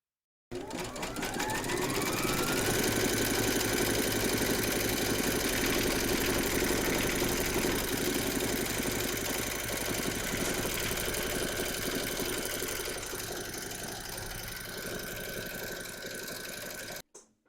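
An embroidery sewing machine stitches a quilted round on a hooped collapsible fabric bowl with gold thread. The whirring, rhythmic needle hum is close and continuous, eases slightly near the end, then stops abruptly.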